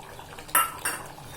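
A spoon stirs cowpea and potato curry in a pot, giving two quick metallic scrapes and clinks close by against a quiet kitchen background.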